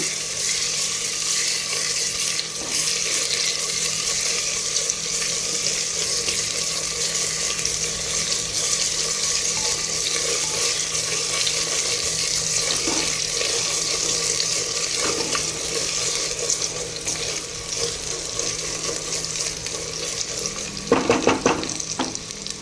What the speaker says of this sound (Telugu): టూ టేబుల్ స్పూన్ అల్లం వెల్లుల్లి పేస్ట్ వేసి లైట్గా వేయించాలి